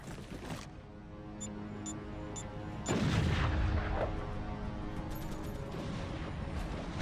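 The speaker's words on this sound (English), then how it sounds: "I like the sound of the warp gun going off." A warp gun fires in a co-op video game, its booming blast swelling sharply partway through and trailing into a rumbling effect amid steady game background sound.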